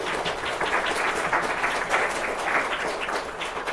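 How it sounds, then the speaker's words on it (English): An audience at a children's sports book event claps warmly, steady crowd applause of many hands holding an even level for several seconds with no voices over it. "Let's hear a round of applause for Skyler."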